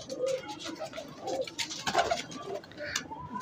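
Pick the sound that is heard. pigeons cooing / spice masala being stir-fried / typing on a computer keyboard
pigeons cooing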